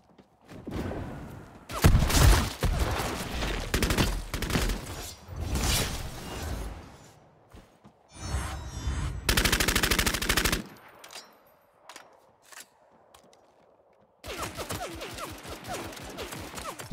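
Gunfire in Bloodhunt, including an AK, with loud bursts of automatic fire in several separate volleys across a long stretch, broken by quieter gaps with scattered single shots and a final rapid burst.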